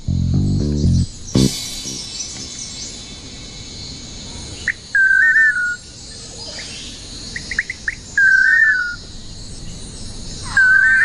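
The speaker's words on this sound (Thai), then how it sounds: "ไม่ใช่เรื่องผิดปกติที่อาจารย์จะอนุญาตให้นกตัวอื่นมาร่วมร้องประสาน" Bright, buzzy chirping calls in short repeated bursts from manakins singing together, with insects humming steadily in the background and a brief low tonal sound at the start.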